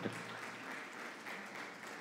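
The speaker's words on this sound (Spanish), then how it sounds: "Dele un aplauso al Señor." Church congregation applauding during a Spanish-language sermon, a short steady wash of clapping at low level, fairly distant, with no talk over it.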